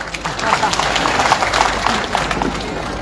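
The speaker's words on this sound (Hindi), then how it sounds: "चेयरमैन साहब, ताली बजाइए" Audience applause at a government presentation, a steady, fairly loud roll of many people clapping with a few individual claps standing out.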